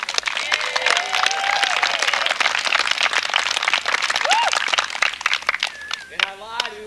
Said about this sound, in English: give your coaches a round of applause.